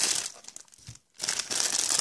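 A plastic bag holding vape liquid bottles is crinkled open up close, crackling bursts of crumpling separated by a short silent pause, then a louder, sustained rustle.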